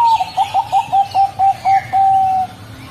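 A caged turtledove gives a clear series of about eight rhythmic coos, close and loud, with the final note drawn out longer than the rest before fading into quiet background.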